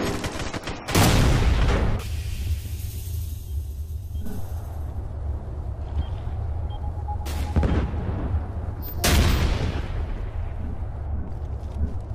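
A frag grenade explosion and gunfire in the video game Ghost Recon: Future Soldier, with several loud booming blasts separated by stretches of low rumbling combat ambience and faint distant shots.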